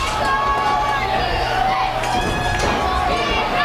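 Crowd at a high school football game against Westfield, a steady broad roar of cheering and chatter held at an even loudness throughout, with voices mixed into the wash.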